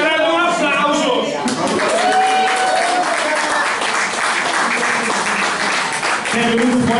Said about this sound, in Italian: Ci sarà un applauso.